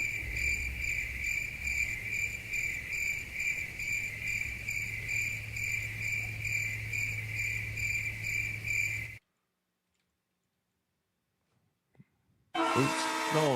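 A cricket-chirping sound effect plays during a live stream, with steady, dense, loud insect trilling that runs for about nine seconds and then cuts abruptly to silence before a brief, different sound.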